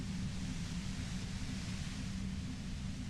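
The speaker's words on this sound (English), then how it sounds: "You hear through the white noise. It's especially bad suddenly." A steady, dense wash of static hiss fills the scene in the video game Disco Elysium, loud and unbroken from start to finish with no voices over it.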